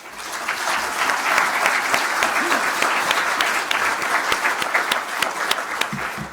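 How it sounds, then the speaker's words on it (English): Applause for a panel at a summit plenary session, a full steady round of clapping from a seated audience, moderately loud and continuous with a few sharper individual claps standing out. "could you give them a round of applause, please?"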